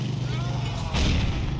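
A pipe bomb blast in GTA IV: The Lost and Damned, a sudden boom with a rumbling tail partway through, over a steady low engine drone with no talk.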